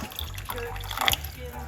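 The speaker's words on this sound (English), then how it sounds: "we are going to put 1 cup of hot water, large cup, very, very large cup of hot water" Hot water poured into a very large cup while making clove, lemon and ginger tea, a short close trickle with light dripping under faint background noise.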